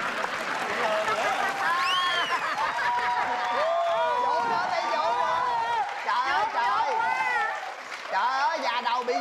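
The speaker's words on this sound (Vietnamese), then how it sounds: "Cảm ơn anh, vỗ tay nha." A studio audience claps on a Vietnamese TV talent show, the applause running under a lot of talking, laughter and lively voices.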